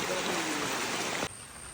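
Floodwater flows past the front of a house in a flooded village, a steady loud rushing wash that cuts off abruptly partway through, leaving a quieter hiss.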